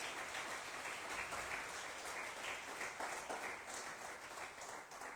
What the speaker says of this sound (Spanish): Denle un fuerte aplauso al Padre.